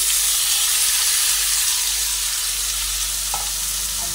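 Capsicum and eggplant sizzle and fry in a pan while being stirred, a steady close hiss broken near the end by a brief scrape of the utensil against the pan.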